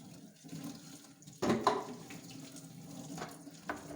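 Items being washed under running water at a kitchen sink, a low steady flow with a brief louder splash partway through, and no voices.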